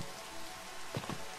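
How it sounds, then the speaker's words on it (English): Steady rain hiss in the video game Final Fantasy XV (Platinum Demo), broadband and constant, with a couple of brief low thumps near the end. "Oh, frick, I made it rain."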